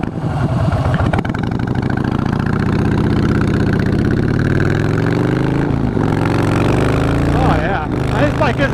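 A 2015 Harley-Davidson Breakout V-twin engine runs steadily and loud throughout with a deep, throbbing idle, the rumble shifting slightly in pitch near the end, while someone talks over it.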